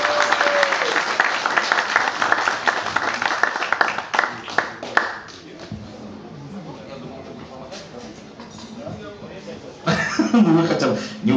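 Applause at an aquabike championship awards ceremony in Nova Kakhovka, a dense burst of clapping that fades after about five seconds into murmuring crowd noise and chuckles, then a fresh round of clapping near the end.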